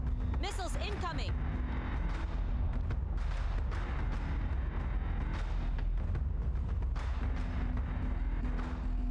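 Incoming missiles exploding in Battlestar Galactica: Deadlock, heard as faint, repeated low booms and rumbling impacts through a continuous din, with a brief whistling sweep near the start.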